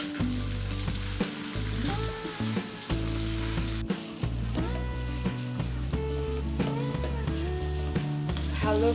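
Pasta sizzles steadily in a pan as white sauce is added, a loud continuous frying hiss and crackle with light stirring, and music playing underneath.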